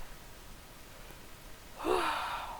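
A person yawns once near the end, a drawn-out breathy exhalation rising out of a quiet room and fading as it trails off.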